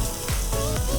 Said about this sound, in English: simmer that little bit of balsamic vinegar away.